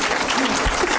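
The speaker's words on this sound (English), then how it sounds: "Applaud if you haven't been on the..." Audience applause at a live show, a dense burst of clapping from a crowd, loud and continuous for about a second.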